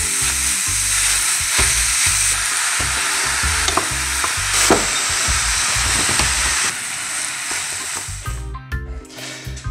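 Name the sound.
minced meat frying and being stirred in a pan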